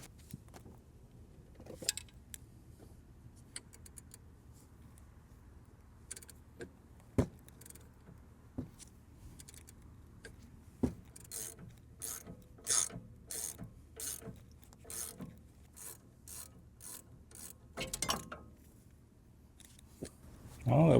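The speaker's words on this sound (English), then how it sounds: "Gonna have to add a pipe to the ratchet." A ratchet fitted with a pipe extension loosens an 18 mm sway bar link nut on a W166 Mercedes ML350, giving a run of quick, close mechanical clicks in bursts, sharper and denser toward the end, over faint background noise.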